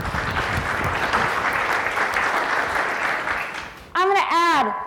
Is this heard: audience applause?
yes